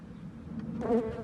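A soft honey bee buzz hums steadily close by at an open hive, swelling briefly louder near the end, with no voices.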